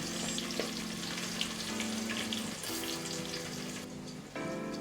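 Sliced onion sizzling and frying steadily in a hot pan for Hyderabadi chicken dum biryani, a continuous close crackle with some stirring, accompanied by faint background music.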